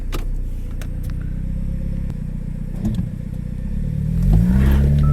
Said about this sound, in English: That was full throttle. This thing should accelerate a little better than that.